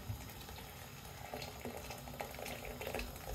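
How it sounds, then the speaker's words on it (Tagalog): Boiled water poured from a kettle into a pot of beef stew with bay leaves, a soft steady splashing and trickling stream, close and quiet, with no voices. "lagyan na natin ng boiled water. Yung pinakulo nating tubig kanina sa kettle"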